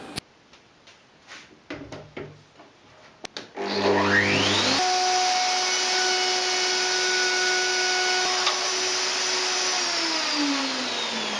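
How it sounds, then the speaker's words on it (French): A wood router with a straight bit and copy guide cuts plywood, spinning up to a loud, steady high whine that holds for several seconds before winding down, after a few light workshop knocks. "j'utilise, comme d'habitude, une douille à copier et une fraise droite montée sur la défonceuse"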